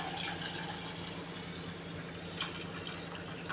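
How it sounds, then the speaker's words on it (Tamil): Coconut milk measured out and poured for Muslim-style nei satham (ghee rice), a soft continuous liquid trickle and splash with faint drips, steady and close, no talking. "தேங்காய் பாலை வந்து அளந்து எடுத்துக்கலாம்."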